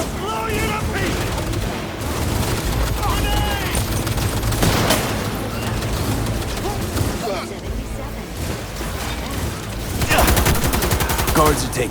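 Gunfire in the Cyberpunk 2077 video game, dense bursts of shots mixed with loud music and effects throughout, with a voice shouting over the action.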